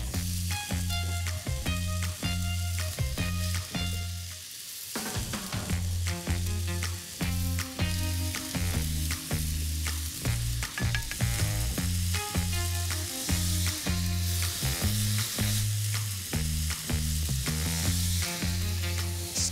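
Pad Thai noodles stir-fried in a big wok over medium-high heat hiss and sizzle continuously, with repeated sharp scrapes and clanks of the utensil against the metal, loud and close throughout.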